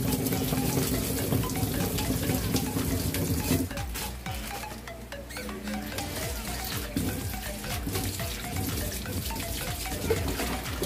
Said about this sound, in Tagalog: babanlawan natin siya sa ano, sa gripo